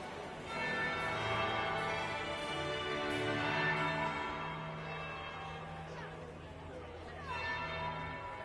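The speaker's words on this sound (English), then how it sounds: "That would be the second bell" A bell in the Dragon Age video game rings out with long sustained resonant tones, a steady layered chime sounding over background murmur of chatter.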